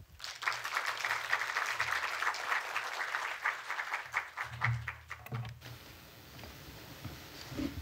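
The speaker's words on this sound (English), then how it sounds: "So let's give a welcome applause to Ka." An audience at an art panel discussion gives a welcome round of applause, a full roomy patter of many hands that holds steady for several seconds, then thins out and fades into quiet room tone near the end.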